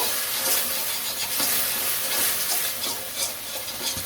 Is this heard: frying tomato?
yes